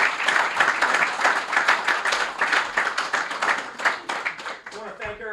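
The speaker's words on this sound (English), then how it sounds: "How about one more round of applause for Coach Larson?" Audience applause for a university head football coach at a press conference, dense steady clapping that fades slightly toward the end before a brief voice.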